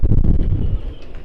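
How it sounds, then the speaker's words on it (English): Storm Pia's gusts of 50 to 60 mph buffet a moored boat, a close, heavy, low roar of wind with rough, fluttering buffeting that eases slightly toward the end. "Wind gusts are quite up to 50-60 mile an hour at the moment."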